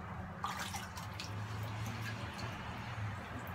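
Chemi Pure filter media bags being dipped and rinsed in aquarium water during cleaning of an FX6 canister filter, giving a steady soft sloshing and dripping with faint squishes, close and continuous, no talking.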